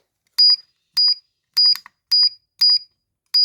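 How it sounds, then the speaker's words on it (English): A LiPo battery charger alarm beeps loudly six times at a quick, even pace, each short high-pitched tone separated by silence. "Turn off that beep noise."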